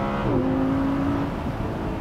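Audi R8 with a 525-horsepower V10 engine, a loud, close, steady engine roar with a rising tone that climbs then holds level, sounding alone for about two seconds.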